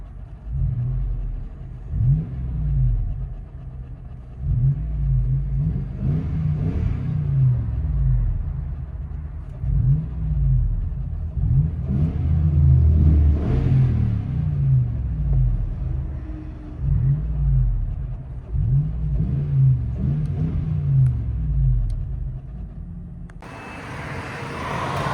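2007 Lexus GX 470 with a 4.7L V8 and Borla ProXS exhaust, heard from the cabin: a steady low droning rumble that swells and eases as the engine pulls, loud and continuous without talk.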